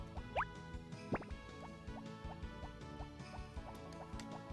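Watering crops in the Harvest Moon: Back to Nature video game, soft repeated liquid drips and plops heard over steady game music with a busy backing beat, and no talking.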